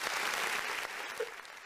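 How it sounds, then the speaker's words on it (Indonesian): Audience applauding for Ibu Heli at a formal ceremony: a short, steady burst of clapping from a modest crowd at moderate distance, tapering off toward the end. "Tepuk tangan untuk Ibu Heli dong."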